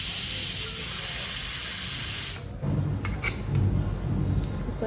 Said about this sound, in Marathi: 2-3 शिट्ट्या घ्यायच्या आहेत कुकरच्या.